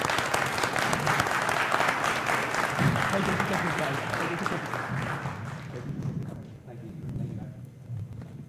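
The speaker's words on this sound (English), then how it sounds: "let's go ahead and give our automotive students a round of applause." Audience applause for automotive students at a career academy signing day, dense clapping that is loud at first and then thins and fades out, with voices underneath.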